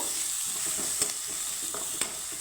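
Chopped onion frying lightly in a pan for a butter garlic masala pasta, a steady soft sizzle with faint stirring scrapes and two brief clicks, close and alone without talk.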